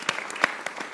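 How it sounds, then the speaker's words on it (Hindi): A studio audience on a Pakistani cricket talk show claps, a short and fairly faint spatter of a few distinct hand claps with gaps between them. "फखर जमान के लिए भी तालियां बजाना चाहता हूं"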